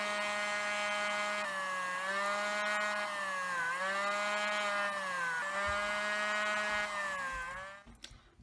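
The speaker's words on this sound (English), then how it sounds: "I'm just going to drill that hole." A power drill whines loudly at high speed, drilling a pilot hole in a military miniature figure, its pitch dipping and recovering repeatedly as it bores into material, then cuts off abruptly.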